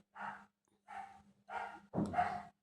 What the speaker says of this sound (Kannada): ಇಲ್ಲಿ ಒಂದು 3 ನಾಯಿ ಇದ್ದಾವೆ, ಯಾವಾಗಲೂ ಸೌಂಡ್ ಮಾಡ್ತಾನೆ ಇರ್ತವೆ